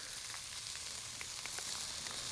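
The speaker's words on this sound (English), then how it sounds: "take out that first batch of beef and put in the rest of it and have got it stir frying" Beef sizzles steadily while stir frying in a hot pan, a constant hiss with faint crackles and pops, close up.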